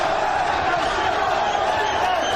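Arena crowd at a Sacramento professional boxing match chants the name Lopez, a steady wall of massed voices with no break.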